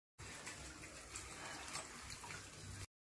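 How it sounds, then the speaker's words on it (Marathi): Water used to wash fenugreek leaves is poured away in a short, continuous splashing gush, quiet and alone for under three seconds. "आता हे पाणी मी टाकून देते"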